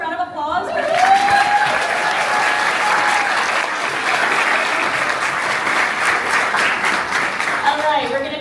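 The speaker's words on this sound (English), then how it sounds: "let's give her a round of applause" Audience applause at a book event with authors Mai Corland, Rachel Van Dyken and Avigail Owen, sustained loud clapping filling the room for several seconds with a few voices calling out over it.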